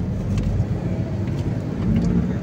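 Road traffic in Espanya rolls past as a continuous broadband rumble of passing cars, steady and moderately loud with a slight swell near the end, no voices.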